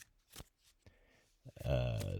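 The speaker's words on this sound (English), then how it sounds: "I'm going to do 3 casual shuffles." A few brief riffling shuffles of playing cards, close and crisp, with a short burst of louder card noise near the end.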